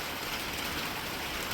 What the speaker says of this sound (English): At least until electricity comes back on and it stops raining.